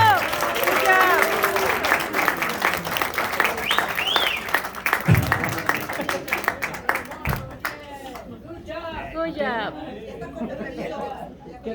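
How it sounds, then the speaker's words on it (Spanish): A church congregation applauds during a sermon while people talk and chatter over the clapping, which gradually thins out as the talking continues. "Démosle un aplauso a Dios."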